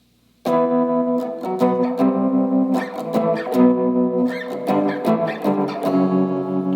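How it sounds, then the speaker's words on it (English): An electric guitar overdriven through a Tube Screamer plays a rhythmic riff with a pulsing tremolo wobble, loud and steady with no pauses. "what that sounds like with the tremolo and the tube screamer is this."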